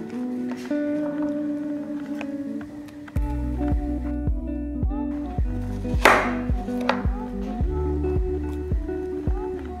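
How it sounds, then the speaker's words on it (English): A knife cuts a dragon fruit into slices in repeated soft, moist chops close to the mic, set over faint background music. "So the easiest way to remove the skin is just kind of peel it off after cutting a few slices."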